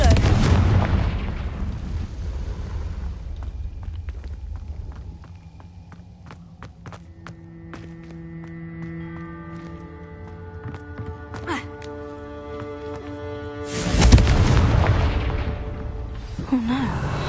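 Spell blasts from the Confringo curse in Hogwarts Legacy: booming game-combat explosions at the start and again near the end, with gunfire-like cracks and layered tonal music between them.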